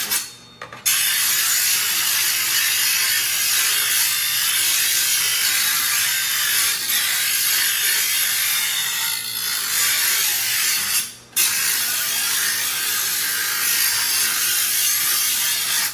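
Kitchen knife being drawn through a knife sharpener, a continuous close rasping grind that runs almost unbroken, with two brief pauses, and no talk.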